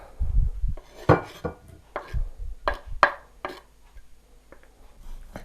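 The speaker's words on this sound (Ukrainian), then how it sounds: "будемо нарізати помідори" A knife slices tomatoes on a board to make hot sandwiches, with around half a dozen close, irregular cuts landing in crisp knocks and soft squelches, interspersed with brief handling clatter.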